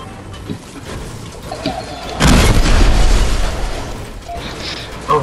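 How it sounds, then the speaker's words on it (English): A single loud explosion bursts midway, as a gas station blows up in Fortnite, with a rumbling tail that fades over a few seconds, preceded by quieter game ambience and light chatter. "Someone exploded the gas station."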